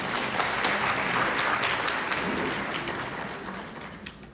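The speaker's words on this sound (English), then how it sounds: "So give yourself a round of applause." Audience applause after a keynote address at the American University of Dubai, a dense wash of clapping heard from a distance, fairly quiet and steady, fading slightly toward the end.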